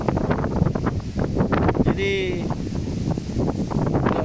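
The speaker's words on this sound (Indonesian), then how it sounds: "Angin kencang." Strong wind buffets the microphone beside a big river while someone casts a fishing net, a steady rushing roar filling the whole stretch, with someone speaking over it.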